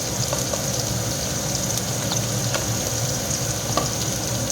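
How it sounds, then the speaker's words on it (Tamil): Onions sautéing in a pan for a carrot beans poriyal, a steady close sizzle with occasional stirring clicks and scrapes, no voices. "வெங்காயம் போட்டுக்கலாம், போட்டு வதக்கலாம்"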